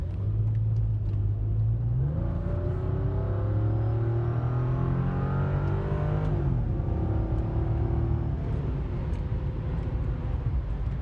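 A car with traction control switched off speeds up on a faster road, the engine note climbing in pitch, dropping at a gear change, then climbing again through a second shift, close and steady.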